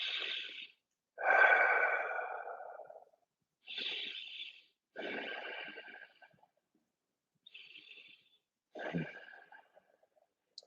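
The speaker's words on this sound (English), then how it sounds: "Maintaining an ujjayi breathing here." Slow, audible nasal breaths in ujjayi style during a yoga practice, six soft, drawn-out hissing inhales and exhales separated by quiet pauses, heard close and alone.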